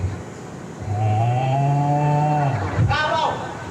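A single drawn-out, low lowing call from a human voice imitating a water buffalo (kabaw), followed by a short rising bleat-like sound.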